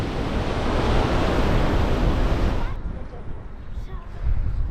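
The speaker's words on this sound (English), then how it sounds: "because the wind's blowing so strong, battering is what it's doing today for sure" Loud roaring wind buffets the microphone over crashing surf on the coast at Hvide Sande, Denmark, then eases abruptly into a softer rush of waves and gusts.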